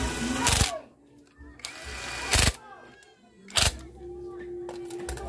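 Impact wrench tightening a bolt on a motorcycle, three short loud rattling bursts spaced about a second apart, close up, with someone talking quietly between them.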